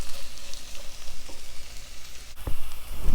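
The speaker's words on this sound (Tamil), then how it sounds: "இப்போ பாருங்கள், வெண்டைக்காய் வந்து நல்லா ஃப்ரை ஆயிடுச்சு." Okra frying in oil in a pan, a steady close sizzle and crackle running throughout with a few soft stirring knocks near the end.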